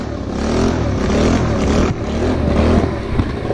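Close and loud, a car engine roars through a new muffler, holding a steady rumble with a short dip partway before revving again.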